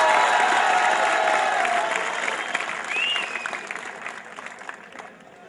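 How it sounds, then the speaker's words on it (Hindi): A crowd applauds at a Hindi poetry recital during the Tarang 2012 college festival, a loud, dense wash of clapping that slowly thins and fades over several seconds, with a brief whistle-like tone midway. "ये बहुत बढ़िया तालियां बजाने लायक बात थी, एक बार बजा दो आप"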